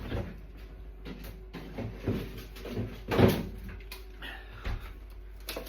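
A freezer's bottom drawer, stocked with boxes of Magnum and Cornetto ice creams, is pulled open indoors. Several soft clunks and sliding scrapes come at irregular intervals, with one louder thud in the middle, and nobody speaks.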